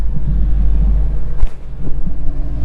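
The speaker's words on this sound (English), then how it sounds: "just listen to how the sound changes when you put the sport exhaust on" A deep, throaty V8 sport exhaust rumble from a Ford Mustang Shelby GT350 idling close by, with a couple of brief blips of revving and no talking.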